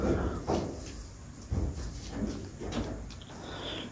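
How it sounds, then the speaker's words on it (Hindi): A door is shut inside a small house, giving a couple of dull knocks and thumps against a low, steady room background, with no talk over it. "दरवाज़ा मैं बंद कर देता हूँ।"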